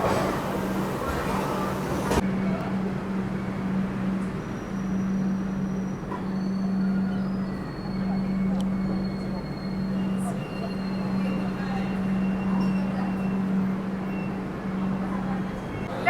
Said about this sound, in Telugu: మన ట్రైన్ అయితే విజయవాడ జంక్షన్ నుంచి డిపార్ట్ అయింది విత్ 20 మినిట్స్ డిలే